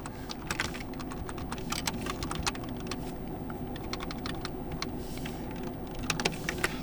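Fingers type a MAC address on a computer keyboard, a close, fairly quiet run of rapid keystroke clicks in irregular bursts over a steady low background hum, with no talk.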